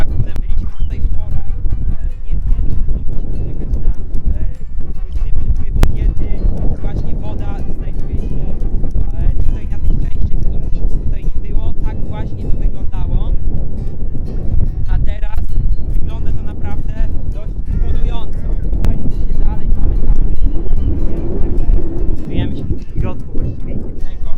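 Strong wind buffets the microphone on Sotavento beach in Fuerteventura, a loud, constant low roar that runs unbroken for the whole stretch.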